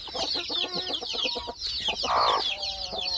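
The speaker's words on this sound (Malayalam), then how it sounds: "ഇത് നമ്മളെ അടിയിരിക്കുന്ന കോഴിയാട്ടോ." A brooding hen on a poultry farm, one eye swollen shut, clucks close by in a quick run of short, throaty calls, with one louder, drawn-out squawk partway through.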